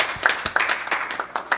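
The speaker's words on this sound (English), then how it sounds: "clap it up." A live-show audience claps in scattered, uneven bursts, several quick hand claps close together, moderately loud and alone without talk.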